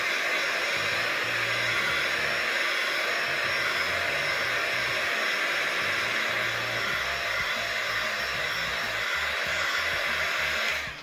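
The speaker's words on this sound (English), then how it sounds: "Okay, so I'm just heating up the other side now." A heat gun blows with a steady, loud whooshing hum as it warms EVA foam for a shoulder pauldron, running continuously up close before switching off at the end.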